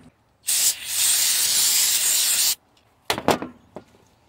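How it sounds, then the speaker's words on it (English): Brake cleaner spraying from an aerosol can onto the engine valve cover surface of a 2006–2012 Toyota RAV4 2.4L: a loud, steady hiss lasting about two seconds, followed by a few short bursts of rubbing and spraying. "I'm gonna clean it here with a brake cleaner"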